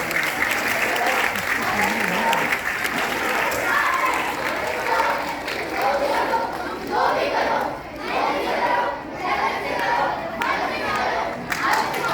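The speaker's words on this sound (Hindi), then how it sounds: "जोरदार तालियां" An audience claps loudly and continuously after a children's theatre performance at a drama workshop in Delhi, with scattered cheers and crowd chatter mixed into the sustained applause.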